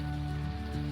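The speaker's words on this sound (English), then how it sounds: "Hopefully the rain lets up a little bit for a while" Rain falling at a campsite on Buttermilk Road in California's Eastern Sierra, a soft, steady patter under a low constant hum.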